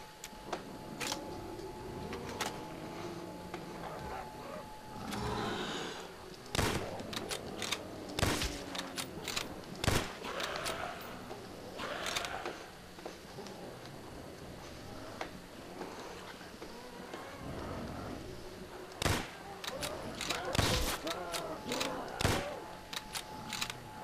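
An upgraded gun in a Call of Duty custom zombies map, Cabin Fever 2, cracks out sharp single shots spaced irregularly over a busy game background, with scattered speech throughout.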